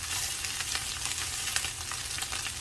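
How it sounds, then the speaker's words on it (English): Ground meat browning in a pan for a pizza casserole, giving a steady close sizzle and crackle of frying with light stirring scrapes, continuous and fairly quiet throughout. "See, we're starting to get some brown bits now."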